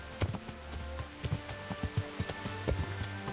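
A horse's hooves clip-clop in the video game Kingdom Come Deliverance, a quick uneven run of thuds over a low steady background hum.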